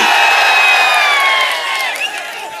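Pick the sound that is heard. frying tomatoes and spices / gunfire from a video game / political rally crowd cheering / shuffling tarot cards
political rally crowd cheering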